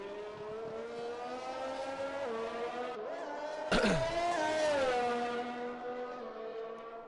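An F1-style racing car in a sim racing game on the Canada circuit, a steady high engine whine climbing through the gears, dropping at shifts, with a sharp burst partway through as it passes close.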